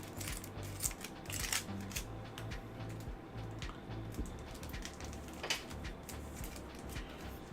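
Scissors handled at a desk during a trading card giveaway stream, giving a few faint metallic clicks and snips against steady low room hum, with no talking.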